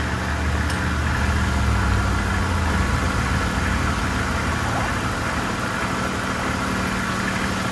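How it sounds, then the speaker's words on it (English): A crashed Mercedes engine, running without coolant, idles steadily and close by, a continuous low rumble with faint mechanical vibration and no voices throughout. "I'm gonna give it a couple revs, and we're gonna see what she sounds like."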